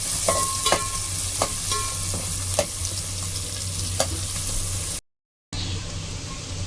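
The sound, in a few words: onion sautéing in hot oil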